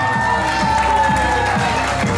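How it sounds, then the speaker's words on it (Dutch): A hall audience at a demo contest bursts into applause and cheering, a dense loud crowd roar with rhythmic clapping. "Een groot applaus voor 2"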